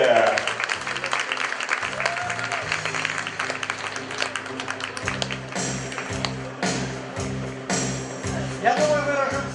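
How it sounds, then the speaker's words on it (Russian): An audience applauds enthusiastically at a boxing savate event, a dense patter of clapping running under a voice speaking over a hall loudspeaker, with a brief musical or electronic tone near the start and end. "Под ваши бурные аплодисменты!"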